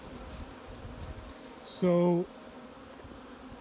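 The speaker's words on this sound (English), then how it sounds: "The bees don't seem to mind being open a little longer." Honey bees buzz steadily in an open hive, a dense, continuous hum with one louder, nearer tonal buzz in the middle, and a single brief spoken word.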